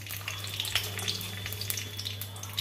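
Two green chilies sizzle in hot mustard oil, a steady, close crackle of frying with a low constant hum beneath, no voices.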